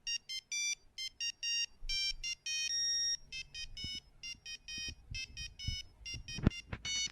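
An early-2000s mobile phone ringtone plays as a monophonic beeping melody, bursts of synthetic tones in a quick rhythm, loud and close, with a few soft knocks underneath.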